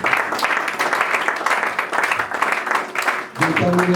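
A church congregation applauding during a worship service, sustained dense clapping from many hands with voices calling out over it, ending as music begins.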